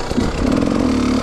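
Enduro motorcycle engine, a 300 trial or 300 EXC two-stroke without electric start, sputtering close and loud in a brief burst, rising into a buzzing rev.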